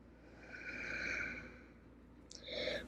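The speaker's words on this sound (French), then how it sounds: "encore 2 grandes respirations ici." Slow, deep breaths drawn and released during a water yoga session, soft airy inhales and exhales rising and falling close to the microphone, with no speech.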